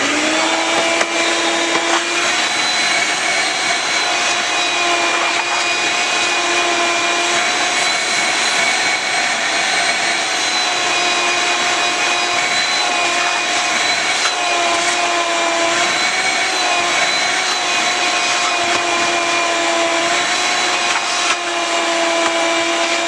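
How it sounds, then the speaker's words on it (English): Vacuum cleaner drawing steadily over car interior fabric during detailing, a loud continuous whine with a high tonal hum held for the whole stretch, no voices. "I'm simply going to vacuum up the debris that I created by using the brush"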